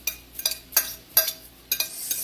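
Onions and spinach go into a hot pan in a few quick clattering, sizzling bursts, sharp and close with short pauses between them.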